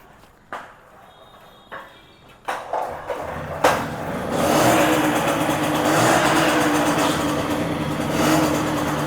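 A vintage vehicle with a 2.5-liter tank is started after a few separate knocks and clatters, then its engine catches and runs steadily, loud and close.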